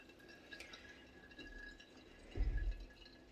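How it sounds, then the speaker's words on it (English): Homemade pine needle cough syrup drips through a strainer into a bowl, quiet liquid trickling close by with a soft splashing pour near the end. "And you'll see it dripping down through."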